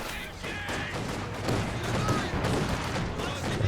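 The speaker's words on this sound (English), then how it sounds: "Guards shooting at Grenadiers at the moment." Infantry rifle and machine-gun fire from Guards and Grenadiers in a Company of Heroes 2 match, a dense, continuous crackle of overlapping shots with occasional heavier bursts, loud and steady throughout.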